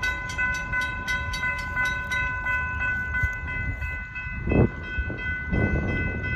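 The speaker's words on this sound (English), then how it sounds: "There might be another train coming" A Florida East Coast Railway train rumbles past a railroad crossing, its horn sounding in long tonal blasts over clattering wheels, loud and close.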